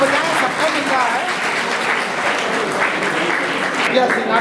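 An audience claps steadily at a local gathering in Gorakhpur, a dense, continuous wash of applause at fairly close range, with voices audible beneath it.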